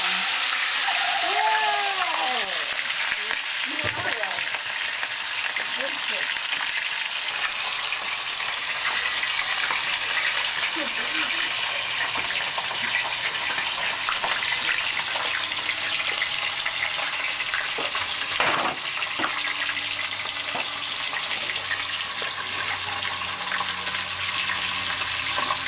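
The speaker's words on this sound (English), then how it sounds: "Into the frying pan it goes." Fish frying in a pan in a Garifuna home kitchen in Belize, a steady close hiss and sizzle running the whole time with a few clinks and splashes of water.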